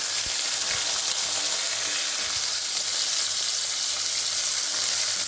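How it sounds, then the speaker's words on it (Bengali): Eggplant slices, rubbed with spices, frying in hot oil for a mango-eggplant dish, giving a steady, close, loud sizzle and crackle for the whole stretch, with a few low bumps, and no talking. "তো এখন এটা আমি ভাজবো, তেলের মধ্যে ভেজে আমি এটা উঠিয়ে রেখে দেবো।"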